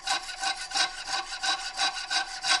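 A hand file cuts a slot in a metal knife guard, giving close, steady rasping back-and-forth strokes at an even rhythm of roughly three per second.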